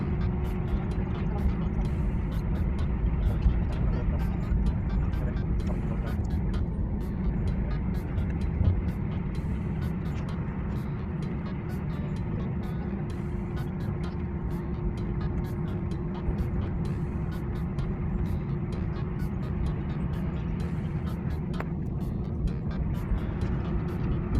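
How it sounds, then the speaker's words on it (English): A Ryanair airliner taxis to runway 22 with flaps extended, its steady jet-engine rumble droning continuously with a sustained whine, while a person talks over it throughout. "we are with flaps extended and on taxi to runway 22 for our departure"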